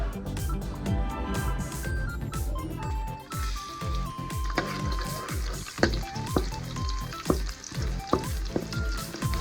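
Cooking oil frying in a pan with crackling sizzle and sharp pops, interspersed with stirring and clinking of a utensil, close by and moderately quiet.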